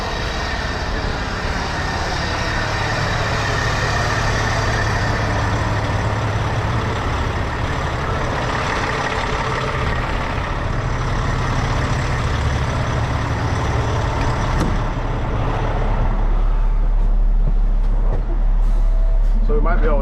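A semi-truck tractor with air-ride suspension and a fifth wheel plate, maneuvering near a trailer, gives off a steady, close, loud engine rumble that lasts throughout, with a heavier low surge near the end.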